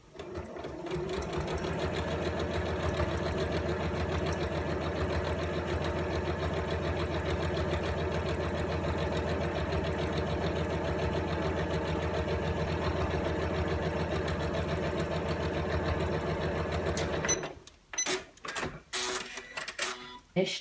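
Sewing machine running a long continuous seam on a lined appliqué tote bag, a fast even mechanical whir for about seventeen seconds before it stops, followed by brief clicks and handling noises.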